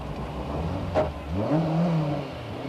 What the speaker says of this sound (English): The BMW gets a rolling start, and McHale and McNamee stay in the rally.